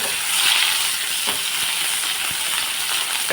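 Potatoes frying in hot oil in a home kitchen for a spiced gravy dish, giving a steady, close, moderately loud sizzle and hiss with a few faint soft clicks, no voices.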